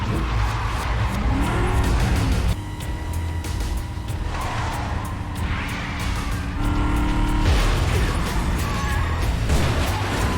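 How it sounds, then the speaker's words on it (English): Cars race through a chase in John Wick 2, engines roaring and tires squealing in skids, loud and close with abrupt cuts between shots and brief surges of acceleration. "we're already getting another car chase"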